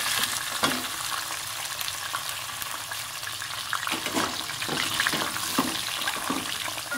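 Chopped onion hits two spoonfuls of hot ghee, a loud continuous close sizzle with a few stirring scrapes and bubbly crackles, no talking.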